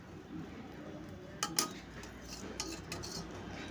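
A utensil scrapes and clinks against a metal pot while spices are stirred into water for a potato and pointed gourd curry. The clinks are faint with a couple of sharper knocks, heard close.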